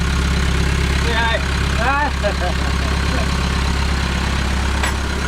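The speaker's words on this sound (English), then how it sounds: "now we got it primed and the engine's running again" A boat's diesel engine runs steadily after priming, a loud constant low rumble with a faint higher whine, while a few squeaky bird-like chirps and other brief sounds rise above it.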